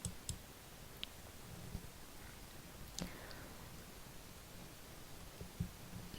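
A handful of faint, sharp mouse clicks land sparsely and irregularly as an on-screen payment and order button is pressed, set against a quiet room hiss.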